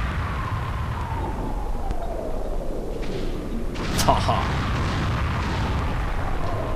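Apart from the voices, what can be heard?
base exploding in video game Lylat Wars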